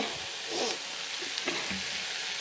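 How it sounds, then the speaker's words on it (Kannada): Sandwich filling fries in a hot pan with a steady, crackling sizzle, stirred now and then with soft scraping taps, close and moderately loud with no talking. "ಸ್ವಲ್ಪ ಫ್ರೈ ಮಾಡಬೇಕು"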